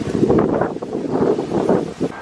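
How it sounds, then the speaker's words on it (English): Steady wind buffets the microphone with a low, rumbling roar that swells and dips slightly for a couple of seconds. "It's getting windy."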